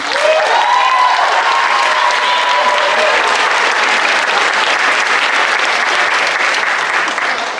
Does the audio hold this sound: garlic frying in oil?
no